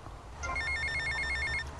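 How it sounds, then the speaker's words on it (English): A telephone rings in the video game GTA Vice City with a rapid trilling electronic bell, one sustained burst at moderate volume over a low game background hum. "and take this phone call"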